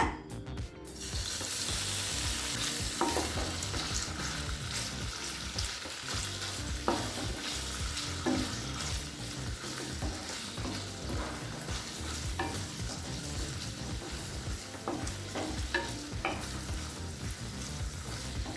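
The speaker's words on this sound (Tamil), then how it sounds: "இப்போ பன்னீரை நல்லா ஃப்ரை பண்ணியாச்சுங்க" Paneer pieces, about 200 g cut into medium chunks, sizzle steadily in oil in a kadai, a continuous dense frying hiss with scattered clicks of stirring, close and fairly loud throughout with no talk.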